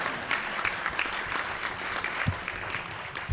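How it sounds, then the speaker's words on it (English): A luncheon audience gives a brief round of steady applause, a wash of clapping heard at moderate distance for a few seconds with no one speaking. "We can allow one round of applause for something."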